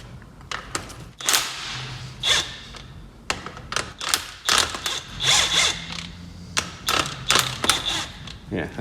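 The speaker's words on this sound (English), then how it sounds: "we can hopefully gun that nut off" Impact gun undoing the top nut of a shock absorber on a Vauxhall Astra J in a workshop, with repeated short bursts of rattling hammering separated by brief pauses, close and fairly loud.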